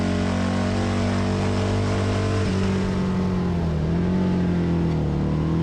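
Harley-Davidson Alloy Art Road Glide bagger motorcycles race on a Las Vegas track, a steady loud engine drone that shifts pitch partway through as the bikes go up and down through the gears, with no voices over it.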